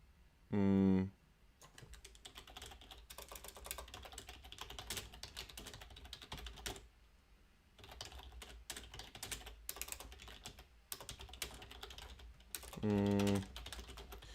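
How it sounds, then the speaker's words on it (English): Rapid, clattering keystrokes on a computer keyboard, fairly close and continuous, with a short lull midway and a couple of brief louder thumps. "Sorry for the loud typing."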